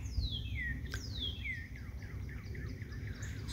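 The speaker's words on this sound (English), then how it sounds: "Springtime, the birds are chirping" A bird repeats descending whistled chirps in springtime, a few clear calls followed by fainter ones, over a quiet low background hum.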